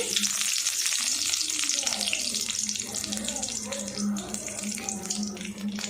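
Mustard seeds, urad dal and curry leaves crackle and spit in hot oil for a tomato kurma base, producing a dense, fairly quiet, close-up sizzle of rapid pops over a low steady hum.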